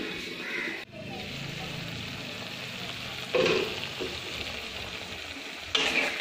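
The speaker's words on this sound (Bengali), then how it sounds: "এটা চাপা দিয়ে আমি মশলাটা কষিয়ে নেব মিডিয়াম ফ্লেমে।" Spice masala sizzles softly in oil over a medium flame for a Changezi chicken dish, with stirring and occasional spoon scrapes over a continuous frying crackle.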